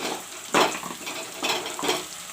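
Onions frying in a pan for chicken curry: a soft continuous sizzle with a few louder clattering stirs of a utensil against the pan, close up and with no talk.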